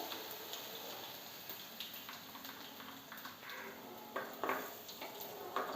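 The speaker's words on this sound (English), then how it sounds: "As the ginger and garlic is getting nicely roasted" Ginger, garlic and cumin seeds sizzle and crackle softly in hot oil in a kadai, a steady quiet frying hiss with occasional brief pops and spoon stirs.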